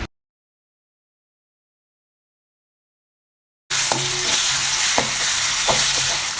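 Onion, curry leaves and ginger-garlic paste sauté in hot oil, a steady loud sizzle with a few scraping stirs, starting abruptly after several seconds of silence.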